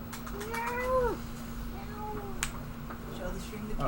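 A cat meows twice, a drawn-out rising-falling call then a shorter one, clear and close, over a steady electrical hum and faint background chatter.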